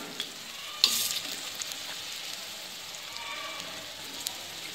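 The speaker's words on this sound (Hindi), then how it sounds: "इनको हम मीडियम फ्लेम पे अच्छे से फ्राई करेंगे। बड़ों को हमको अच्छे से फ्राई करना है।" Lentil bade deep frying in oil over a medium flame, a steady hissing bubble of moderate loudness with a sharp burst of crackle early on, then settling into even frying, no speech.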